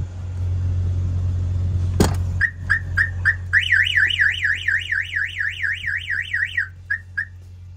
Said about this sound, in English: somebody opens any of the doors, of course, that will set off the alarm